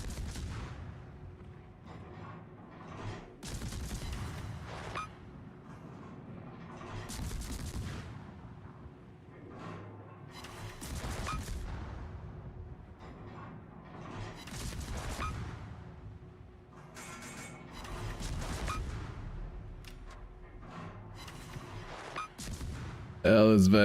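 Naval artillery shells fire in World of Warships, repeated booming salvos at steady intervals with rumbling decays, under continuous game background noise.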